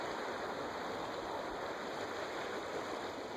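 The Lamar River flows past with a steady, broad rushing wash of water, close and continuous, with no voices over it.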